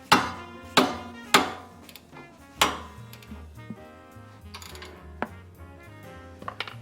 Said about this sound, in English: that's why I got my trusty mallet here